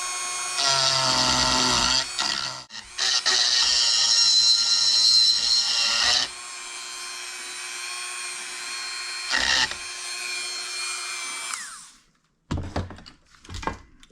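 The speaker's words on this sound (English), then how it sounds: "I'm just going to grind this thing off smooth" A grinder smoothing off a motorcycle transmission part, a loud close high whine that drops in pitch as it bites into the metal, runs for about twelve seconds and then winds down, followed by a few clunks.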